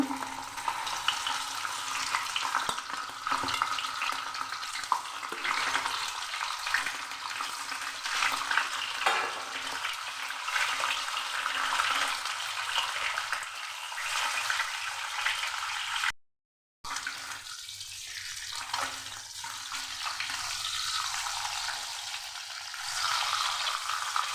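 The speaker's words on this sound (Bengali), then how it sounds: "প্রথমে আমি মাছকে ভেজে নেব।" Rohu fish pieces rubbed with salt and turmeric fry in hot oil, making a continuous, fairly loud crackling sizzle with occasional clinks and stirring, interrupted by a short silent gap, with no talking.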